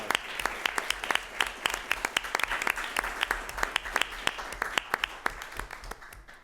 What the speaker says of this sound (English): So I'd like to give Sarah a round of applause.